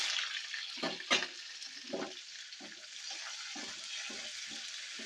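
Chana dal and green chillies frying in oil in a pan, a steady hiss and crackle, broken by repeated soft stirring scrapes in a rhythmic pattern.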